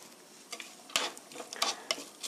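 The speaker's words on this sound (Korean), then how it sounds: "3분간 볶아주세요." Garlic, onion and carrot being stir-fried in a pan, with soft scraping and clinking of a utensil against the pan in irregular bursts and a faint sizzle underneath, fairly quiet and close.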